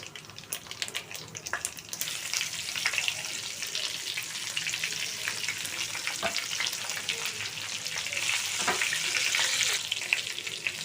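Brinjal pieces frying in a pan over a medium flame with cumin, a steady close sizzle with light stirring clatter that grows slightly louder toward the end.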